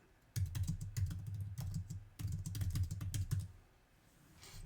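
Rapid clicking of keys on a computer keyboard in two quick bursts, close and fairly quiet, ending in near silence.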